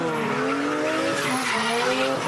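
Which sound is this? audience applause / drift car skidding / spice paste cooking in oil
drift car skidding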